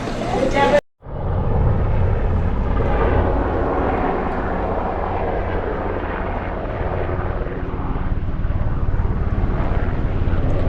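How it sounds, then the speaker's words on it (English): A big military Coast Guard helicopter passes low overhead at about fifty feet near the Peggy's Cove coast, a loud sustained rotor and engine roar filling the whole stretch after a brief cut. "this big helicopter comes flying over at about 50 feet. Looks like it's a Coast Guard helicopter, military."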